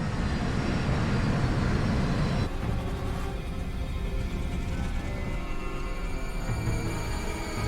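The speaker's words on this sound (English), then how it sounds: "plane begins the final stage of its approach." Jet airliner on final approach in a steep descent, its steady broadband engine and airflow roar loud and continuous, with a slight drop in intensity partway through.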